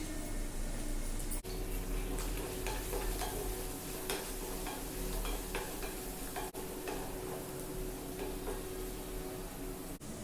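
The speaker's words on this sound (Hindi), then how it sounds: "पनीर को भी हल्का ही फ्राई करेंगे, ज्यादा फ्राई नहीं करेंगे।" Paneer frying lightly in a pan for a tricolour pulao gives a steady close sizzle with faint stirring scrapes and small ticks, running evenly throughout with no talk.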